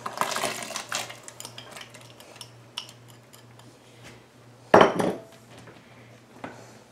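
Chopped carrots and celery stalks drop into a soup pot of ham and navy bean soup, with light kitchen clatter early on and one sharp thud near the end.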